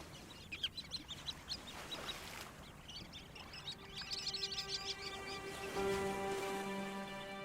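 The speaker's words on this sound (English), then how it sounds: "Purple sandpipers arrive back to the Dee Estuary in early November." Purple sandpipers and other shorebirds call on the winter Dee Estuary shore of North Wirral. The clip holds faint, scattered chirps and peeps in quick bursts, and a steady tonal hum enters near the end.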